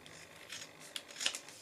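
Scissors trimming off bits of card sticking out at the edges of a papercraft piece, heard as a couple of soft, faint snips over a quiet background.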